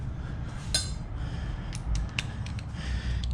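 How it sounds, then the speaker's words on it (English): Wrench working a 10 mm bolt loose on a Camaro engine, a series of short metallic clicks and ratchet ticks in uneven bursts, close and fairly quiet over a low background hum. "And then we've got to loosen this bolt up right here."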